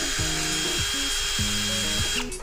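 A Kenjiro 20V cordless brushless drill runs on a swapped-in Alevix drill battery, its motor whining in short bursts that rise and fall in pitch, close and loud with no talking.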